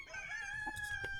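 A feral rooster crows once nearby in a drawn-out, wavering call, faint against the quiet surroundings of a snowy farm.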